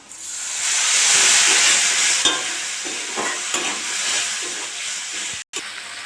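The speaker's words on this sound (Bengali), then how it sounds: "মশলাটা কষে নেবো।" Ground spice masala with turmeric, cumin, coriander powder and salt frying in oil in a pan for a fish curry, a steady close sizzle with scraping stirs throughout and a brief dropout near the end.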